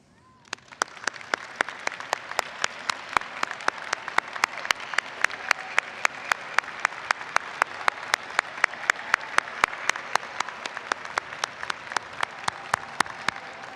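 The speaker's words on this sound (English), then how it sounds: "Would family members please stand for applause and congratulations?" Applause for families at a college graduation convocation: a crowd claps steadily over several seconds, with a few loud individual claps popping out near the microphone in a regular rhythm.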